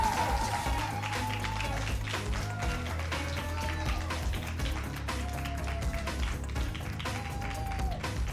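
An audience at a university competition finals applauds steadily for several seconds, dense clapping forming a continuous wash with a low rumble underneath and no distinct voice standing out.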